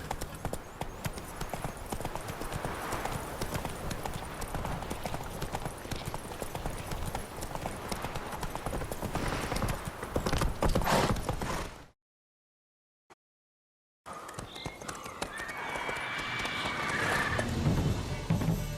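Roach, the horse in The Witcher 3, keeps up a steady clip-clopping of hooves under dense game ambience. The sound drops out for about two seconds, then the hooves and surroundings return.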